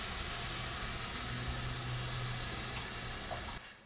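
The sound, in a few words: broth poured into the flour mixture for chowder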